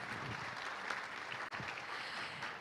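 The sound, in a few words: audience applause for the speakers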